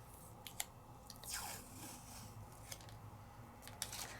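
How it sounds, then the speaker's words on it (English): Washi tape packaging being opened at a craft table, with soft crinkles, a few sharp snips and tearing clicks, close and quiet with no talking. "And I'm going to open up these washi tapes."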